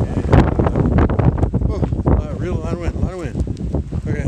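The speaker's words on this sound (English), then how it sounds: "A lot of wind." Strong wind gusts buffet the microphone on a dirt road during a desert hike, a loud, continuous rumble with voices talking underneath.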